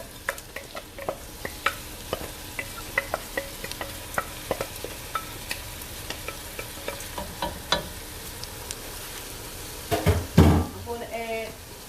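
Washed, drained jasmine rice pours into a pot that is already hot, with a burst of sizzling and clatter near the end after a stretch of quiet kitchen ticks and small knocks.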